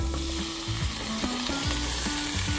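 Butter-fried food sizzles steadily in a hot frying pan on a home stove, a continuous close crackle with a few light clinks of a utensil, no voices.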